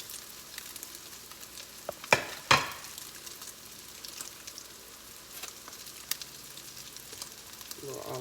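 Food frying in olive oil, a soft steady sizzle with a couple of sharp clatters near the middle, quiet and close.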